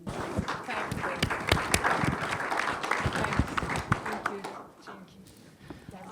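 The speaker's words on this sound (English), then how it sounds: "great applause to them" Conference audience applause mixed with a voice speaking, brisk clapping with sharp individual claps standing out, tapering off toward the end.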